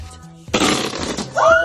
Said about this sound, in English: make it look like I'm farting